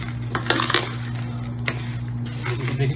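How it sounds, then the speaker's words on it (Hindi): A spoon scrapes and clinks against a bowl while sweet and spicy mango pickle is mixed with sugar, soft steady stirring with light metallic taps over a low background hum. "देखिए कितने अच्छे से मिक्स कर रहा हूँ पूरा मैं"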